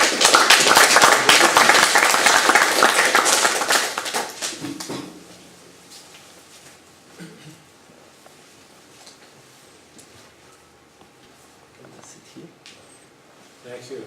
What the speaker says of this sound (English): I ask for a round of applause for our distinguished